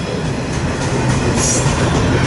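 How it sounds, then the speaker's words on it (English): A double-stack freight train of 53-foot containers rumbles past at close range, a loud continuous roar of wheels and rattling cars with faint squeals, no voices. "The entire train so far has been JB Hunt. 53, double stack."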